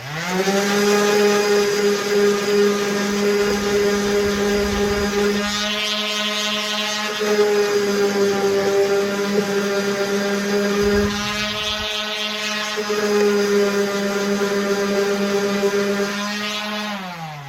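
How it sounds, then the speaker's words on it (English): A finish sander works over a car audio trunk panel, a steady loud motorized whine with a strong low hum and bright harmonics, its pitch dipping briefly twice as the pad is pressed or lifted. "Then I'll just take the finish sander."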